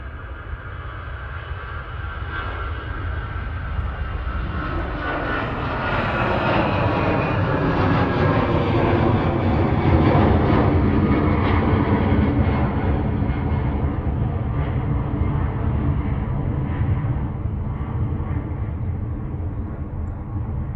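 An Aer Lingus Airbus A320 jet departs Manchester for Dublin with a sustained engine roar, moderately distant, building gradually and holding steady with a sweeping tonal whine, no voices.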